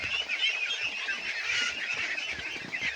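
Pet ducks gobble snails up close, giving a steady, busy stream of dabbling, slurping and honking chatter with no pauses.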